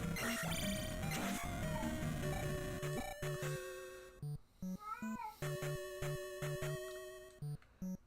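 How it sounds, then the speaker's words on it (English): Cat meows in a Legend of Zelda adventure game, several short tonal calls with slides in pitch, heard over layered game music and effects at steady moderate loudness. "Damn cat."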